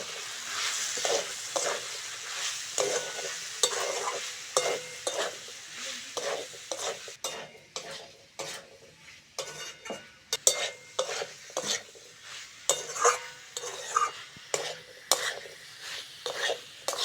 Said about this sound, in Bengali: মশলার সঙ্গে আলুটা ভালো করে কষে নিয়েছি